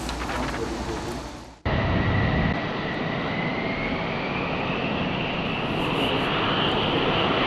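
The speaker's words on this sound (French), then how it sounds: "le parking revient à la vie, baigné par le sifflement des F-16 et F-15 qui s'ébranlent" F-16 and F-15 fighter jets on an air base apron give off a loud, steady turbine whistle with a slowly rising whine. It starts right after a brief, different rushing noise cuts off.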